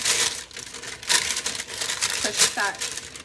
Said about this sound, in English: I have just regular parchment paper, not wax paper.